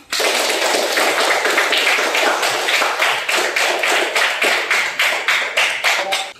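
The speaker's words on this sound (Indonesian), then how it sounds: "Jadi kita buat tepuk tangan untuk semua" A classroom group claps for the discussion groups, a loud, fairly close patter of hands that settles into distinct rhythmic claps toward the end, with no talk over it.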